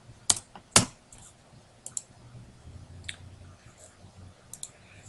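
Typing on a computer keyboard while editing a product description on a holiday-house website, a few loud close keystrokes early on and then lighter scattered clicks with pauses, no talking.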